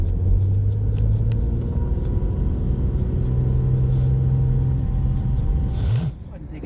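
Acura NSX hybrid accelerating on a Las Vegas raceway, a steady loud engine and road rumble with a rising tone that drops away near the end.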